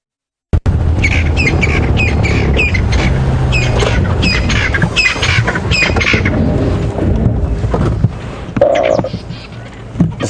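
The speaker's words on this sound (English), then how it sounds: "This crested Franklin were calling to their heart's content, being very loud next to the road." Crested francolins call loudly beside a road, a harsh, rhythmic run of repeated squawking notes close by, going on for several seconds before fading into quieter, scattered chirps.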